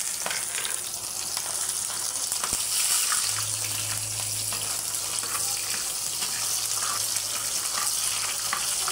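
Chopped onion and garlic fry with dried chillies in hot oil, making a dense, even sizzle close up with faint stirring scrapes, steady from start to finish.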